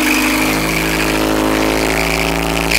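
Loud, lumpy idle of a cammed 1977 Toyota pickup's 20R engine and exhaust on its first run, steady and close, with a rough rhythmic throb throughout.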